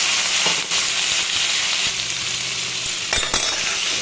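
Garlic, onion and tomato fry lightly in hot oil, giving a steady close sizzle with a few brief crackling bursts and no talking.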